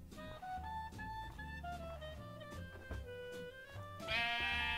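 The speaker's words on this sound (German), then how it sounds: "Schafe, ich hab's schon gehört. Es gibt Schafe." Sheep in the video game Minecraft bleat in a rapid series of wavering, nasal calls that run together, followed by a brighter chime-like game sound at the end, loud and close with no talk.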